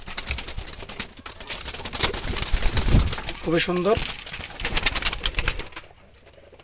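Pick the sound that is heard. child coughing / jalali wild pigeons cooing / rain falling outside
jalali wild pigeons cooing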